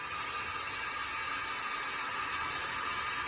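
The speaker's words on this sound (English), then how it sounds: "I've also got a small hair dryer." A small hair dryer in a Winnebago Fuse 23A motor home, powered by a Renogy 2000W inverter, blows steadily, a loud continuous rushing hiss with no breaks.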